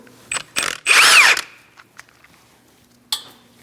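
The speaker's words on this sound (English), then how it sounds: "We're going to use a T50 and remove this screw." A power tool with a T50 bit removes a screw from a brake bracket on a 2000–2006 Mini Cooper: several short loud whirring bursts, one longer grinding spin, then small clinks and a final brief burst.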